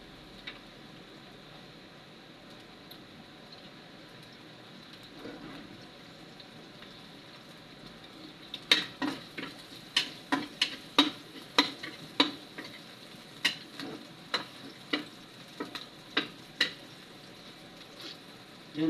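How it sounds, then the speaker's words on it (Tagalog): Garlic sautéing in a pan for spaghetti sauce: a faint, low sizzle is broken by a series of sharp scraping taps of a utensil against the pan in the latter half, with no talking. "So magigisa tayo ng bawang."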